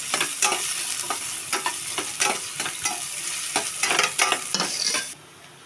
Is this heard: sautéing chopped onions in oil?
yes